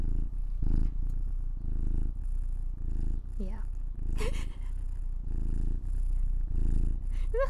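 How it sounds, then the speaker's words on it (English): A cat purrs loudly and intensely up close in rhythmic rumbling cycles, with a few brief high vocal chirps between breaths. "he is purring very intensely"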